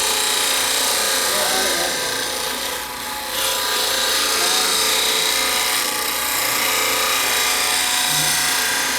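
A bench grinder grinds a high carbon steel woodturning tool, producing a loud, continuous bright rasping hiss that dips briefly and resumes, with talking over it.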